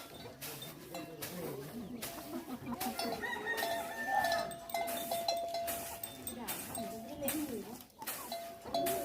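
Roosters crow repeatedly and chickens cluck in a Bru ethnic village in Sepon, Savannakhet, Laos, with close, loud calls under steady outdoor commotion and someone talking throughout.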